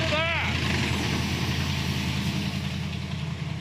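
A rescued project car's engine catches and settles into a steady, loud idle close by, a continuous low rumble throughout, with a brief rising whine right at the start as it fires.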